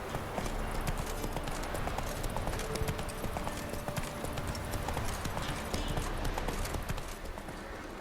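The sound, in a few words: horse Roach trotting in video game The Witcher 3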